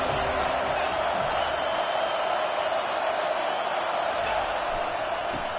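A football stadium crowd roars steadily behind the defense on a big third down, a dense continuous wash of cheering that stays loud and even throughout, with faint voices mixed into the din.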